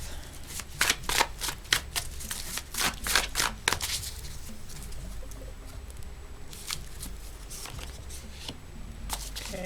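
Cards are shuffled in a quick run of crisp riffling snaps, then drawn and laid out for a spread with softer sliding and tapping, close and clear with no talking.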